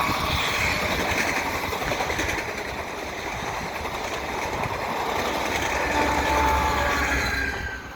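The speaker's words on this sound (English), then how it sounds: "here we have a quick train coming underneath the bridge." A VIA Rail passenger train passes beneath a road bridge, giving a loud, steady rumbling roar that holds throughout.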